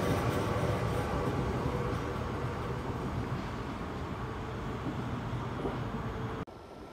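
A train departs Den Haag Centraal station, its steady rumble and rail noise holding loud and close for several seconds before cutting off abruptly near the end.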